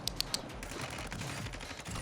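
A quick burst of three sharp gunshots fired through a wall in the shooter Warzone, crisp and evenly spaced at the start, then a low rumbling game ambience.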